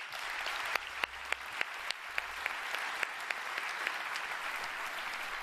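An audience at a French video game awards ceremony applauds steadily, a dense wash of clapping with a few sharper individual claps standing out, sustained and fairly loud throughout.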